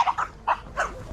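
A dog at a vanlife festival gives four short, sharp barks in quick succession, loud and close, with no talking over them.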